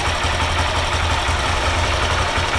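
Motorcycle engine idling during a charging-system test, a close, steady low rumble with a regular pulsing throb and no change in speed, no talk.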